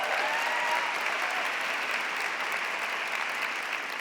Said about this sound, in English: How about a round of applause for our incredible Mariam Monsef?